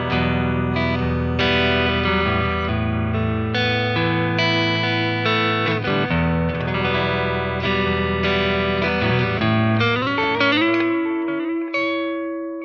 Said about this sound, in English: all that is a crunch amplifier with a bit of univibe, and we also have a bit of delay